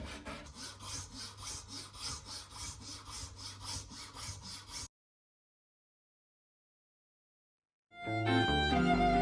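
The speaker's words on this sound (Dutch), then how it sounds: "Eenmaal terug thuis kan ik uit het middeleeuwse been de topkam zagen." A violin top comb being sawn from medieval bone: steady, rhythmic back-and-forth rasping strokes at close range for several seconds, then silence, followed by unrelated music.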